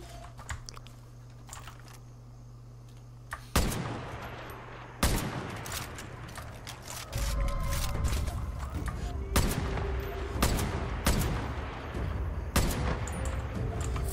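Several sharp, loud sniper rifle gunshots ring out at irregular intervals amid background game noise in Far Cry 5 Hours of Darkness, each a sudden crack followed by a short tail.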